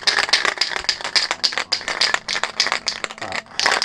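Rapid rattling of a spray paint can being shaken, the mixing ball clattering in quick, steady bursts, close and loud throughout.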